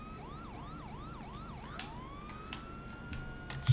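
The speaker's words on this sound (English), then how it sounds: "Shut the sirens off for me." A police car siren on a Dodge Charger RT in a video game wails in rapid rising-and-falling yelps, then shifts to a long steady rising tone, fairly close, with a few clicks and knocks around it.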